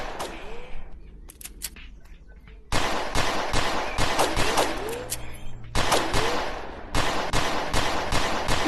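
Rapid bursts of virtual gunfire crack at a shooting range in the VR game Rec Room, loud repeated shots in dense clusters separated by brief pauses.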